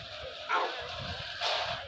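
A puppy in the video game Minecraft gives two short, high yipping barks about a second apart, fairly faint over a steady game background.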